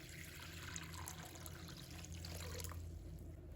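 Clean water poured from close by into a bowl of dried preserved radish (菜脯) in a home kitchen, a steady, continuous splashing pour with no pauses and no voices.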